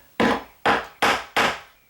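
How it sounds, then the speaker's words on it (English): Four solid knocks of a hammer tapping the bottom of a wooden door being rehung, evenly spaced and close, each ringing briefly before the next strike. "I'm going to take my hammer, tap the bottom"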